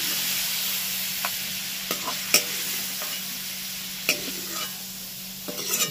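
Large prawns frying in hot oil make a low, even hiss, punctuated by sharp clicks and taps of a spatula turning them, with a few scrapes clustered near the end.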